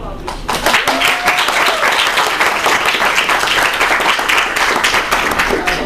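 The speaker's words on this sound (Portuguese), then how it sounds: "Uma salva de palmas para a Clóvis." A lecture audience at the opening of a junior data analyst course claps loudly and continuously, a dense, even burst of applause lasting several seconds.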